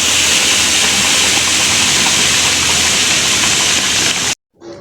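Spice paste sizzles and fries steadily in a pan for pangas fish cooked with banana blossom, a loud, dense hiss that cuts off abruptly near the end.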